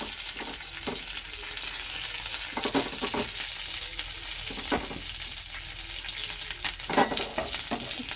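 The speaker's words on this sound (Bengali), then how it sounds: "ভেজে নিই কারি পাতাটা।" Curry leaves frying in a little hot mustard oil with a few mustard seeds: a steady close sizzle with crackling pops and occasional stirring scrapes, no talking.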